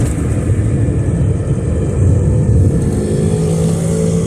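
Cars speeding past on a road, a loud, close, continuous roar of engines and tyres that swells as vehicles rush by, with no voices.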